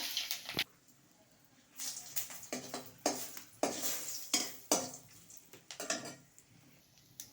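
Dried red chillies hitting hot mustard oil in a wok, close and clear with no talk: a series of bright sizzling bursts, each fading, mixed with scraping and clanking of a metal spatula stirring in the pan.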